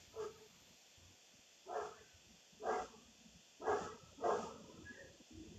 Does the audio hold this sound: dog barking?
yes